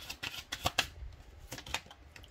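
Tarot energy cards being shuffled and drawn by hand, a series of quick crisp riffling snaps and soft slides close to the mic, irregular and fairly quiet.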